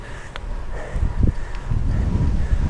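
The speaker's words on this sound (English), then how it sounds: "It's windy up here." Outdoor wind buffets a microphone during a bicycle commute, a low, rumbling roar that rises and falls in uneven gusts, with no voices.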